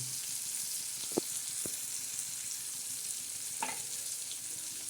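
Onion and tomato frying on low heat in a pan for a spicy sev curry, a soft continuous sizzle with a couple of brief utensil knocks, no talking.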